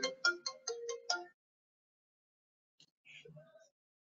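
A phone ringtone for an incoming call plays as five quick bright electronic tone bursts, then stops; after a pause a voice speaks briefly.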